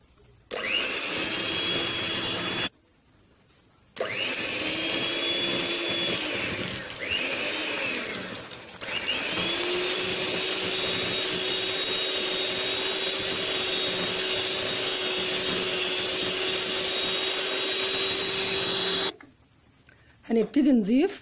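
An electric mixer whirs steadily as it beats butter with powdered sugar, loud and continuous with a couple of brief stops and speed dips, while someone talks over the motor.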